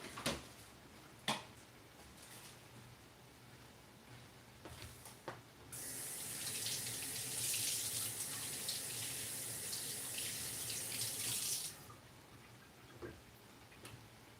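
Water runs steadily from a kitchen tap for about six seconds, a loud broad hiss that starts and stops abruptly, framed by faint clicks and small kitchen clatter while lentils are being cooked.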